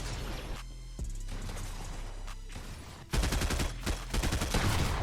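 Rapid bursts of gunfire from the video game Fortnite, dense overlapping shots with a heavier, louder volley in the final two seconds, close and punchy with no talk.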